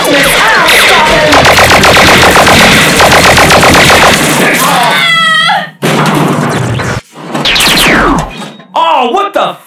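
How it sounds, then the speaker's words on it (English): Animated Transformers parody battle with rapid machine-gun fire, dense continuous bursts of shots for several seconds, then sharp laser-like zaps and whooshes broken by brief silences, with shouting voices mixed in. "She was shooting me!"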